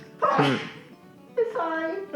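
A person sneezes once up close, a sharp burst with a voiced onset, and a second voice speaks briefly afterward.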